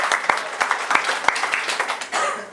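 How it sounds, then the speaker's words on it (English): A small group claps for a couple of seconds, individual claps distinct and close, with an uneven rhythm. "Just give her a round of applause"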